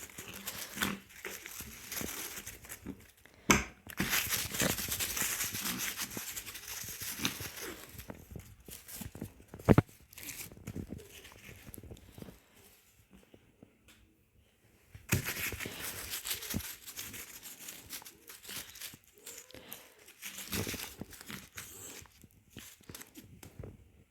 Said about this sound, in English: You've got so many toys and you choose to play with a paper wrapper.